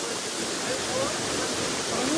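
A monsoon waterfall running over its banks roars as a dense, steady rushing wash, with faint voices in the background.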